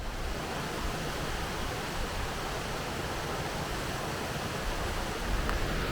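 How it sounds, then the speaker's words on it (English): A waterfall on a mountain route in Cumbria roars with a steady, dense broadband rush, loud and constant throughout with no voices. "I came across this beautiful waterfall"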